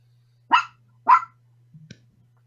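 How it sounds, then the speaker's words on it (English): Two sharp dog barks ring out about half a second apart over a steady low hum, followed by a faint short thud, with no talking. "Sorry for dogs."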